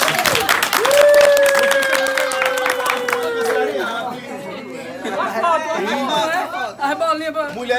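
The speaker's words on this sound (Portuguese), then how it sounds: "Aplausos pras meninas." Applause and lively chatter at a birthday party, with clapping mixed under loud voices, shouts and music-like tones that dominate the busy, crowded scene.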